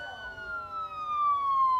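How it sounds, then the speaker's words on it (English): Police and emergency vehicle sirens wail with a steady, slowly falling tone, fairly distant and alone, with a faint rumble of traffic beneath. "Our scene fades in with the overwhelming sounds of police sirens and emergency sirens."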